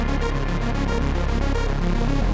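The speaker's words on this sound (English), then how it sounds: "it's just this simple analog generator with the LFO automation on the filter" An analog-style synth arpeggio built in Phase Plant, with a warm bass whose filter sweeps under LFO automation, plays as a dense, steady pulsing texture that stays loud throughout with no voices.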